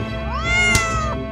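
A single cat meows clearly and up close, one drawn-out rising and falling call with no other sounds around it.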